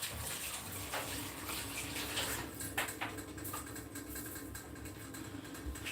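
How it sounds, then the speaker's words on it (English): Hands are washed under a running kitchen tap, a continuous rushing splash of water heard close and steady with slight fluctuations, fairly quiet overall and free of talk. "Just going to wash my hand."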